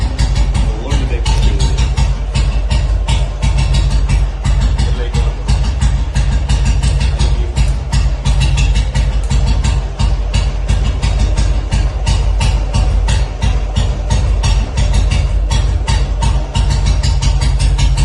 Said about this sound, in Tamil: இன்ஜினோட ஸ்பீட் ரொம்ப சூப்பரா இருக்கு.